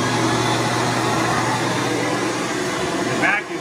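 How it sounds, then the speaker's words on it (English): A loud, constant roaring carpet-cleaning extractor vacuum motor fills the whole stretch, a steady broadband whoosh with no pauses. "The vacuum sucks it up."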